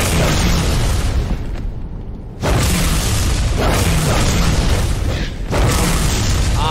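Loud, dense blast of a bomb detonating in the Halo 3 online match, a sustained roaring boom with a brief dip and renewed surge, no talk.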